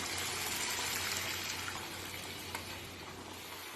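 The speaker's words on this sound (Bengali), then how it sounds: "2 কাপ পরিমাণ জল গরম দেব।" Hot water is poured into cooking mutton haleem, producing a steady, close sizzling and hissing wash as the liquid meets the hot oily pot, continuous for a few seconds with a low hum beneath.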